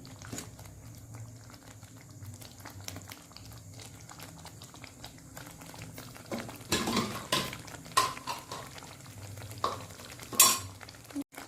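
Low bubbling and sizzling from garlic chutney boiling in a pan on the stove, with occasional louder stirring scrapes and clinks toward the end; no talking.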